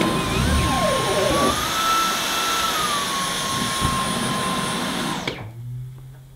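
An expensive vacuum cleaner runs on plush pile carpet with a loud, steady high-pitched whine and airy roar, its motor pitch wavering slightly, then cutting off abruptly near the end and leaving near silence.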